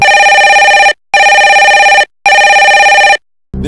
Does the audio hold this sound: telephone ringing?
yes